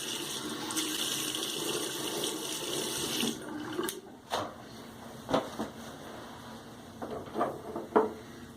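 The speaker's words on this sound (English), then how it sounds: "Put a little water on my head." Water runs steadily from a tap for a few seconds, then stops, followed by scattered drips, splashes and small handling sounds nearby as water is put on a head before shaving.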